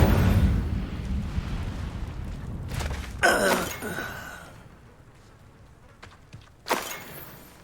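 A fire spell cast in Hogwarts Legacy during combat: several loud whooshing, flaring bursts of flame, one near the middle and another near the end, over a low rumbling game background.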